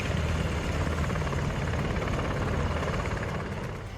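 An Apache helicopter flies overhead, a steady whirring rotor chop under a broad, dense engine roar that holds constant and then fades slightly at the end, with no voices.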